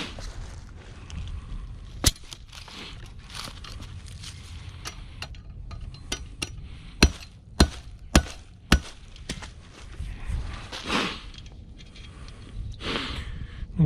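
Metal hammer blows flattening a steel trap for predator trapping: a handful of sharp, loud strikes spaced irregularly, with a steady outdoor background between them.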